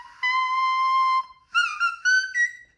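A human voice imitates a dolphin whistle with a high, pure sustained tone followed by several shorter rising and falling squeaky whistles, close and clear, with no talk.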